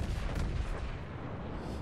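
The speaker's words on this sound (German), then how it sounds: "Die 2 Schüsse kamen sehr gut, sehr zielgenau." A heavy battleship gun salvo in World of Warships, a deep booming artillery blast that rolls and decays over about two seconds, loud and alone.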